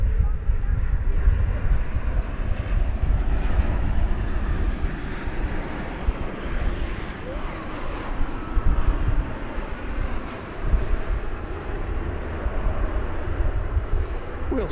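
A Boeing 787-9 airliner arriving from Madrid as Flight 37 lands at DFW Airport, a loud broad continuous jet roar that holds steady throughout the clip.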